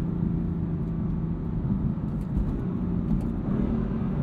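A tuned 530 hp 2015 BMW M4 with a DCT gearbox, heard from inside while driving, its engine a steady low rumble with road noise, fairly loud and even, no talking.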